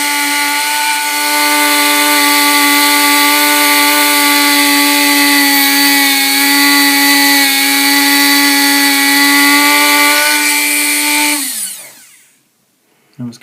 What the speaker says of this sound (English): now I'm going to take my Dremel tool and shave off all of that excess